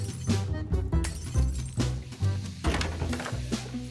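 A breakable object smashed inside the Whateverland video game, a short shattering crash among several glassy clinks and thuds over steady game music.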